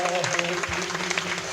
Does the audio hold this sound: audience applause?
yes